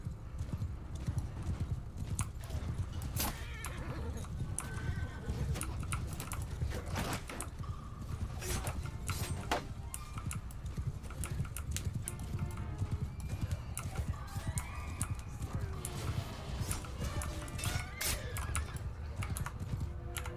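Rapid, continuous hoofbeats of galloping horse archers' horses in a battle video game, with scattered clicks and game-like effects, steady and busy throughout, no speech.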